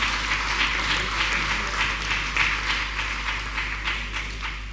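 Crowd clapping at a swearing-in ceremony for permanent secretaries and commissioners, a sustained, even patter of many hands over a low steady hum.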